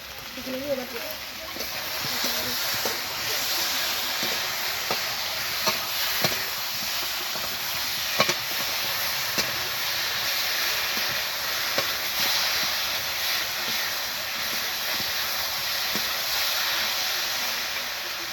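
Rui fish with potato and eggplant being stirred in a frying pan, with a steady sizzling hiss and occasional scraping clinks of the spatula throughout, heard up close.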